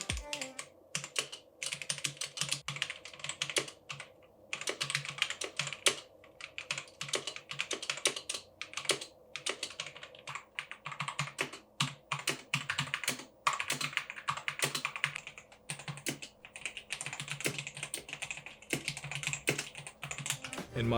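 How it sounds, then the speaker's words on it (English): An inexpensive keyboard fitted with new mechanical switches is typed on continuously, giving a close, dense clatter of quick keystrokes with brief pauses. "Now let's listen to the sound test of each of these switches and how they sound."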